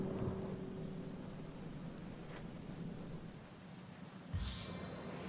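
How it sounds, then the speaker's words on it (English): A rain spell in the fantasy role-playing game Divinity: Original Sin pours down in a steady, dense hiss of falling rain with a low rumble. A sharper splash or crack bursts near the end, and nobody speaks. "I think I'm just going to make it rain in there."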